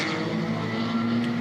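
Race car at Nürburgring 24h qualifying entering the pits, a loud close engine drone with a steady pitched whine and a slight rise in tone, heard alone.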